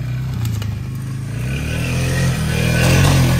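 A 450 dirt bike engine revving loud and close while riding through bush, its growl rising and falling with rough clattering over the ground.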